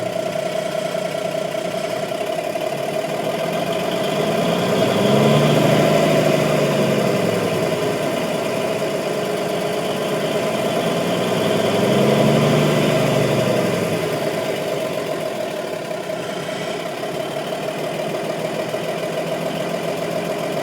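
A 1984 White Xpediter truck engine, revived after sitting since 1998, idles and is revved twice to build air pressure, its steady mechanical drone swelling in two slow rises before settling back to idle.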